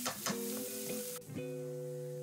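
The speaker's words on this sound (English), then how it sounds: "Same pot, we're gonna throw the onion. It's like half a cup. Saute them real good." Half a cup of onion hitting a pot to sauté, a soft steady sizzle with a few light stirring clicks and a faint tonal hum underneath, heard alone without talk.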